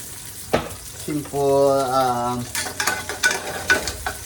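Onion hitting preheated oil in a pan, a sudden bright sizzle that swells and holds for about a second before settling, with stirring scrapes and clacks of a utensil around it.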